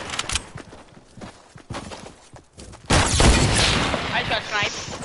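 A single loud, close shot from a sniper rifle in Fortnite cracks out after scattered light footsteps and clicks, followed by a sustained roar and ringing tail, with a voice talking.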